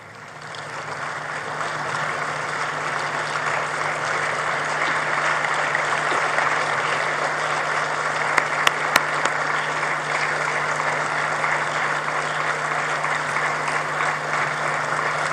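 An audience at the opening ceremony of the Nuclear Energy Innovation Summit 2026 in Kigali rises to welcome guests of honor with steady, sustained applause, a dense even wash of clapping filling the hall throughout with a few sharp louder claps midway.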